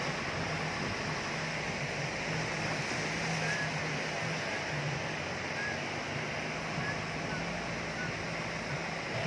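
A constant rushing roar of the Taman Khola river flowing past a village in Nepal fills the whole stretch, steady and even, with no pauses.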